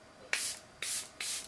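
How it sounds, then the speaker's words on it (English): Three short hissing bursts of Charlotte Tilbury Flawless Airbrush Setting Spray are misted onto a face, each a close, airy spritz of about a third to half a second, separated by brief pauses. "We're gonna finish it up with the Charlotte Tilbury Flawless Airbrush Setting Spray"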